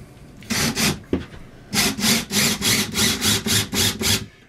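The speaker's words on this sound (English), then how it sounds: "And put the next screw in." A screw is driven through drywall into a wall stud to hang a shelf. A short burst of rough grinding comes first, then a steady run of rhythmic rasping pulses, loud and close, with no talking.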